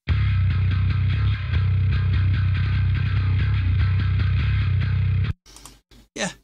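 An unprocessed bass guitar track, dry and heavy with deep plucked notes in a steady groove lasting about five seconds, then stopping abruptly before a few brief unrelated sounds.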